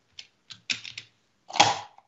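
Computer keyboard typing, a handful of separate key clicks in an irregular rhythm followed by a longer, louder clatter of keys, close and clear against silence.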